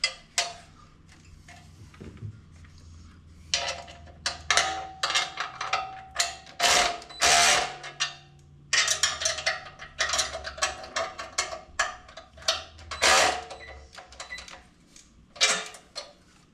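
A ratchet tightens the bolts on a Volkswagen Vanagon trailer hitch, loud close clicking bursts in repeated runs with short pauses between, with a low hum in the background.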